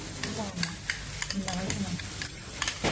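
Onions are stir-fried in hot oil for a pork filling, a dense, close sizzle broken by quick scraping stirs and clacks, with faint voices in the background.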